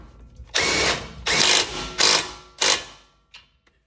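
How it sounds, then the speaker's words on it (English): An impact gun tightens sway bar hardware on a 2024 Subaru Crosstrek Wilderness, giving four loud, rattling bursts of hammering with short pauses between them, followed by a faint final tap. "Put the appropriate socket on our impact gun,"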